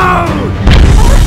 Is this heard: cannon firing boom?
yes